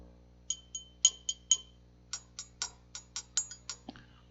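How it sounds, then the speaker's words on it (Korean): A thick glass shot glass is tapped about a dozen times, giving sharp, bright clinks with a brief ringing tone. The taps come in a quick, uneven series, close and clear against a quiet background. "다음 샷잔 굉장히 너무 굵어서 잘 안 나는데 굉장히 아주 갈라지는 날카로운 소리가 나죠?"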